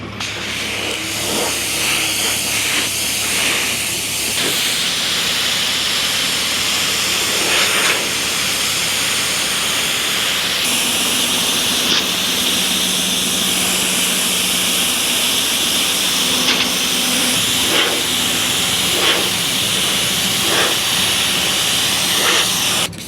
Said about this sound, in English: pressure wash it a second time to get the rest of that junk off of there